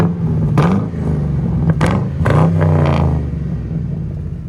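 A 2004 Mercury Grand Marquis 4.6L V8 fitted with Dynomax Race Bullets mufflers idles with a deep, lumpy rumble and is blipped several times, each quick rev rising to a raspy roar and dropping back, loud and close.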